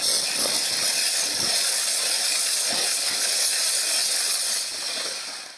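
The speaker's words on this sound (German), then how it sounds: "Da kommt dann aber auch ordentlich Dampf." Steam hissing steadily from the steam wand of a Profitec Go 2.0 espresso machine during heat-up: a continuous, loud, close broadband hiss with faint low thumps, easing slightly near the end.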